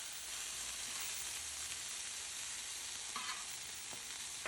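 Burger patties flipped on a Blackstone griddle give a steady, soft, even sizzle with a faint scrape or two, heard alone at a distance.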